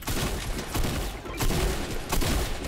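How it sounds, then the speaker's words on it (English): Dense assault rifle gunfire in a Fortnite battle royale match, with continuous loud rapid bursts and booming shots filling the whole stretch, no voices. "where are those AR shots"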